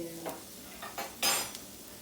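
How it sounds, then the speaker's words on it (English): Peppers cook in a pan alongside shrimp, giving a faint, quiet sizzle broken by a few brief stirring scrapes and clinks, one slightly louder near the end. "My peppers be cooking."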